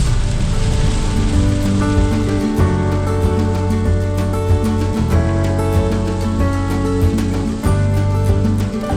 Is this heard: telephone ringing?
no